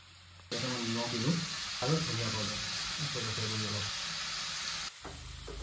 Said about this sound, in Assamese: তাতে মই এতিয়া কুচিয়া মাছখিনি দি দিলোঁ দি ধুনীয়াকৈ তাত লৰাই আছোঁ